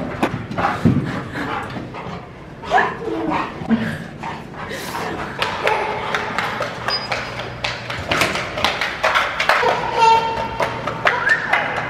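A dog barks outdoors in the snow in short, scattered bursts, mixed with clicks, footsteps and movement, while people talk nearby.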